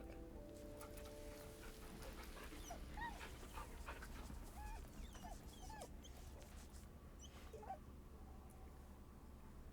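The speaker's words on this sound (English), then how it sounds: "Pet the dog." Dog being petted in the video game Baldur's Gate 3, with soft whimpers and panting yips close by over a steady ambient game soundscape, no talking.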